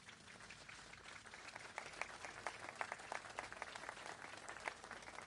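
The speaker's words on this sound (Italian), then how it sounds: "Lo facciamo con un applauso tutti insieme." Steady applause from a large crowd at the Pope's meeting with African refugees in Malta, many hands clapping together continuously, with a few louder claps standing out now and then.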